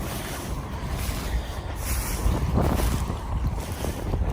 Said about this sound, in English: we're getting kind of an northeast wind kind of thing going on